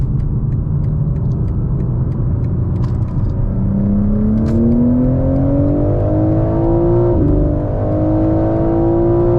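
A 2024 BMW M4 Competition xDrive accelerates hard onto a highway from inside the cabin, its engine rising in a steady loud drone through the gears with a brief dip at a shift, and no talking.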